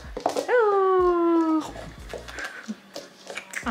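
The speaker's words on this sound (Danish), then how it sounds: "Så fik vi mødt min lillebrors mega søde hundevalp Hodja." A young puppy gives a long, rising-then-falling whining howl followed by shorter whimpers, close and fairly loud, in a quiet home.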